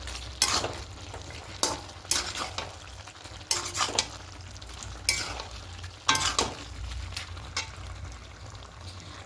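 Hilsa fish head and spinach ghonto being stirred in a pan, with repeated scraping strokes of a spoon against the pan at an irregular pace over a soft sizzle.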